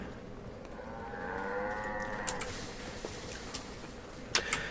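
Cows mooing on a farm in the video game Far Cry 5, one long drawn-out low moo in the middle over a steady ambient hiss, with faint ticks and a sharp click near the end.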